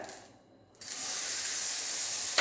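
Butter melting in a hot pan with a bright, steady sizzling hiss that starts abruptly after a brief quiet moment and holds evenly, close and fairly loud with no talking.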